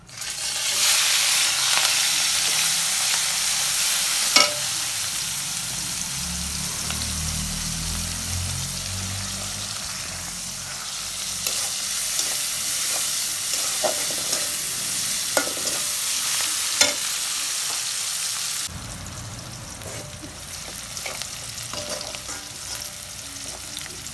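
Home-grown ash gourd leaves frying in a pan with onion, garlic, green and dried chillies, giving a loud, continuous sizzle broken by occasional sharp clinks and scrapes of stirring, with no voices.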